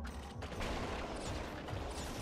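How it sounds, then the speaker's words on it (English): Loud crackling blasts from torpedo explosions in Crash Bandicoot 3 N. Sane Trilogy, a dense burst of rattling detonations over continuous game noise. "Also, the explosion is way more powerful."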